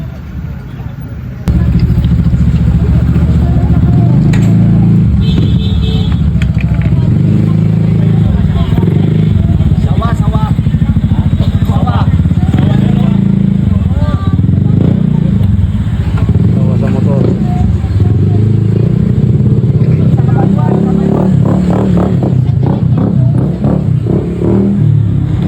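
A motorcycle engine runs steadily and loudly throughout, with a python coiled inside the bike, while background voices and clatter mix in over the constant engine drone.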